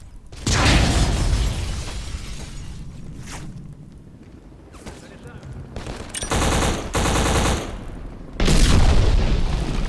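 A grenade and heavy gunfire in a cooperative shooter game, loud booms and bursts of automatic fire in several blasts close up, with dense rumbling between them.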